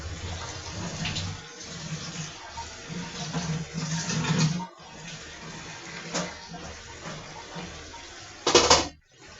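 Water poured into a pan of carrots, a continuous close splashing stream with a few louder bursts and a clatter near the end, no talking.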